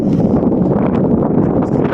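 Steady, rough wind buffeting the microphone outdoors on the coast of Brittany as rain begins, a dense low rumble with gusty flutter that continues without a break.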